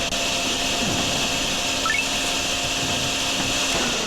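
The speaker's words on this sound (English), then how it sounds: "Let's grab our vacuum. Yep. Vacuum up the rest of this here." Vacuum sucking up standing water from a dip in the road in the drain-cleaning game DrainSim, a steady loud whirring drone that runs the whole time without pause.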